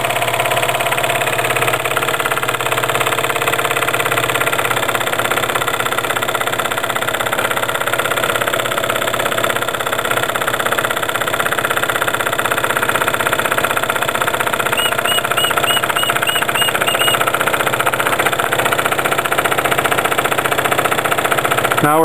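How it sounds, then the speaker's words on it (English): A small generator engine runs steadily under a rising electrical load from a rheostat, its knocking, labored idle continuous and close with no talk over it. "You can really hear the engine getting loaded down."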